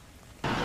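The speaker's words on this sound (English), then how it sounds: "As darkness brought the return of a driving rain" Heavy driving rain from the remnants of Hurricane Ida falls in Worcester, a soft patter that abruptly swells into a loud, dense outdoor downpour.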